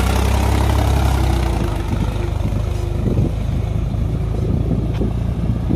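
A Mahindra 265 tractor engine runs steadily close by, a loud low diesel rumble that holds constant throughout with no talk.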